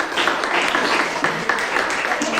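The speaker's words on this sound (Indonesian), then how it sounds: "tepuk tangan untuk Kirani." A classroom full of people claps steadily, a dense continuous patter of hands with a few voices mixed in.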